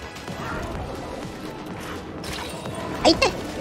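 In Splatoon 3's Hero Mode, something in the game breaks with a short, sharp crashing burst near the end, over busy game action.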